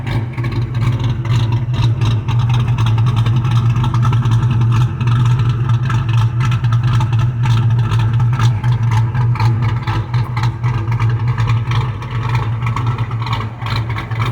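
A Ford Mustang GT with a loud exhaust and a choppy cam idles and revs, producing a continuous heavy, lumpy rumble that stays close and loud throughout without talk.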